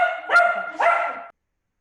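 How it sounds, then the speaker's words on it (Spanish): A pet dog indoors barks twice in quick succession, close and loud, then falls silent. "tengo un perro"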